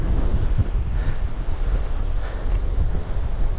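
A gale blasts across the Yorkshire coast between Saltburn and Scarborough, roaring and buffeting the microphone in a constant loud rush with surf-like surges and no pauses.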